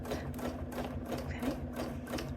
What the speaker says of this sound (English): we are going to start at the bottom swirl, and we are going to sew that